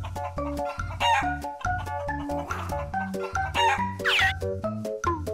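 A cartoon chicken clucks and a rooster crows in a busy animated animal scene, the calls rising over a steady bouncy music bed with repeated beats.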